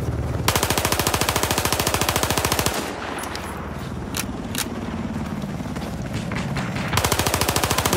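Sustained rapid bursts of automatic machine gun fire in a Battlefield 4 Conquest match, loud and close, with a steady rattling rhythm that breaks off midway into scattered distant shots and clatter before resuming at full pace.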